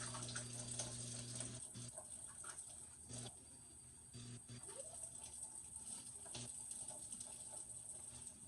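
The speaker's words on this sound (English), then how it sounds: "I'm going to rinse my black beans here." Tap water runs steadily in a kitchen sink while black beans are rinsed, a continuous close hiss with faint clinks and shifting splashes throughout.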